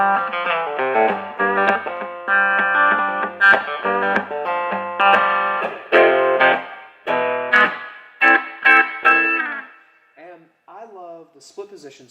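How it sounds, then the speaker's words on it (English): Electric guitar (JE20) played through distortion, with split pickup positions giving sustained harmonic-rich chords and notes in loud repeated strums and phrases, close and alone, tapering to quieter sparse notes near the end. "when you put distortion on them, a lot of times you can get these really interesting tones happening where the pickups are interacting"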